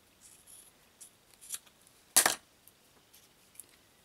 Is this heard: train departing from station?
no